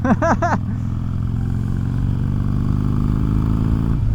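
A motorcycle engine idles steadily, loud and close, after a brief burst of rising and falling revs at the start.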